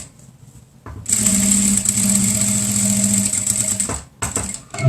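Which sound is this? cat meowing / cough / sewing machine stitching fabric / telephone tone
sewing machine stitching fabric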